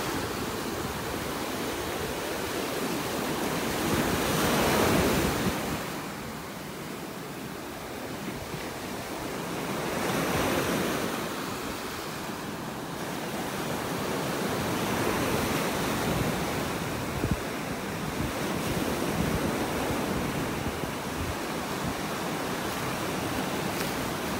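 Ocean waves pound the beach at North Naples, Florida in a steady roar, swelling and easing every few seconds, loud and close, with no voices.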